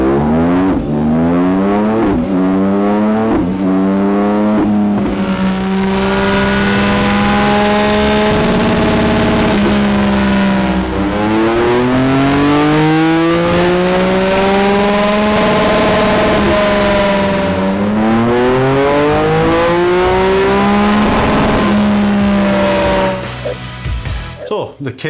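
BMW K1600 GT six-cylinder motorcycle with a modified exhaust being run up, the engine revving repeatedly in long rising and falling sweeps, loud and close, throughout.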